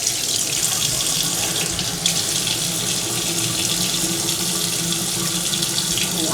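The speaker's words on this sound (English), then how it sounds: "Washing this off my hands." Tap water runs steadily into a sink while hands are washed beneath it, a continuous close hiss and splatter with no pauses throughout.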